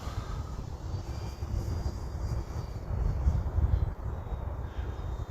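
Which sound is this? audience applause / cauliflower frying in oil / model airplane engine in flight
model airplane engine in flight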